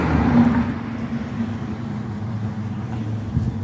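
A steady engine hum with a low rumble, loudest at the start as a vehicle goes by, then settling into a constant drone.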